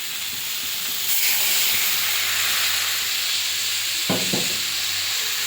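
Water hits a hot pan of frying long beans (borboti) and prawns, giving a steady loud steaming hiss and sizzle with a few stirring clatters near the end.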